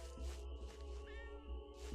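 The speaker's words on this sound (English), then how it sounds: "Don't hiss at me, I'll hiss at you. Stupid cat." A cat in the Dwarrows video game meows and hisses at close range, a couple of short strained cries over steady game music and background hum.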